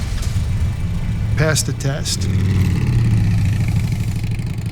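A motorcycle engine idling with a steady low rumble that stays close and prominent throughout, while a person talks briefly over it.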